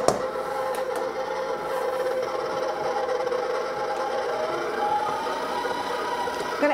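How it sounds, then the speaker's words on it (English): Electric mixer beating cornstarch and flour together for butter shortbread cookie dough, a continuous steady motor whir with a faint rhythmic churning, close and alone. "Mix up the cornstarch"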